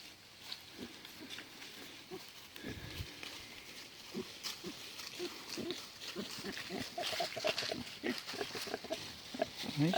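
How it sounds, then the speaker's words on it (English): Pigs grunt repeatedly on a farm, with short irregular oinks and snorts at close to middle distance that grow busier and louder over time, with no talk heard. "The pigs are scattered all over the place back here."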